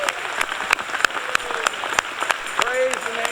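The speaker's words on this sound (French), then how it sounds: "Donnons au Seigneur une bonne main d'applaudissement." Applause from a congregation at a church service, a steady patter of clapping with a voice briefly rising over it near the end.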